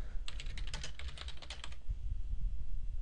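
A computer keyboard is typed on quickly to enter a file name, a short burst of close, crisp key clicks lasting about a second and a half, then quiet hum.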